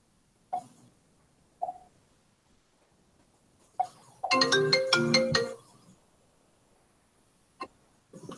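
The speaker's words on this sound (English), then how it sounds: "let me turn off my phone" A phone ringtone plays a short melodic burst of about a second and a half, close and clear, between brief isolated knocks or coughs in an otherwise quiet room.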